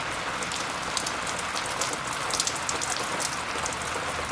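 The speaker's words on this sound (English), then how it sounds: "as already expected, it started to rain" Steady rain falls outdoors at a van build site, a dense continuous hiss of drops hitting surfaces that stays even and fairly loud throughout, with no talking.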